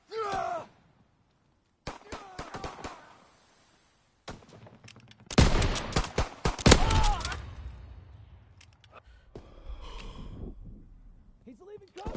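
Bursts of heavy cannon blasts from a World War II video game, loud and clustered in the middle, with sighs and voices reacting around them.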